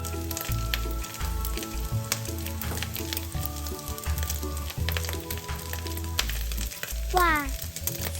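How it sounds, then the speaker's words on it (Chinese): Thirty grams of sliced shallots with soaked dried shrimp frying in oil over medium heat, a dense continuous sizzle, close and steady, with brief scraping stirs throughout. "倒入30克红葱片，中火爆香"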